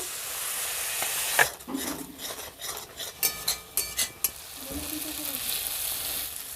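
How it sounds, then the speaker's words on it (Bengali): Spice masala of turmeric, chili powder and salt sautéing in oil for a spicy crab curry, with a steady close sizzle broken by a quick run of rhythmic spoon scrapes and knocks against the pan. "মশলাটা আমি ভালো করে কষিয়ে নিয়েছি দেখুন মশলা দিয়ে আমার তেল ছাড়তে শুরু হয়ে গেছে"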